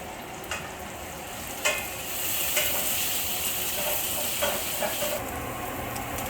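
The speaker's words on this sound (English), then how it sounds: "we have to make sure that we stir the onions, and we have to make sure it doesn't turn brown and stays pink" Onions frying for sambar sizzle steadily in a hot pan while a spoon stirs them, with soft scraping clicks over the constant hiss, close and alone.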